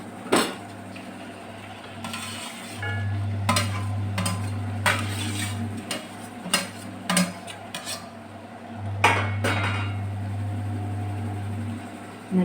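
Chicken is stirred into a thick gravy in a pan, with a spoon scraping and clinking against the metal in irregular strokes over a steady low cooking hum.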